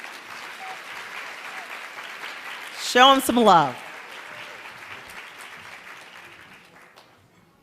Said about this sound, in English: please welcome them with a nice big round of applause as they make it to the stage